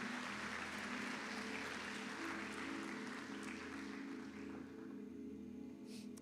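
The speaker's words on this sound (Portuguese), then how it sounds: "Aplauda o Senhor em nome de Jesus." A church congregation at a Sunday service applauds in a continuous, fairly quiet wash of clapping over a low steady hum. The clapping eases slightly toward the end.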